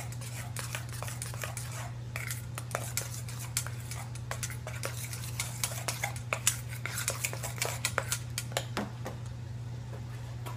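Parmesan cheese being stirred into a carbonara sauce for spaghetti squash, heard as light, repeated clinks and scrapes of a utensil against a bowl, steady and close, over a constant low hum.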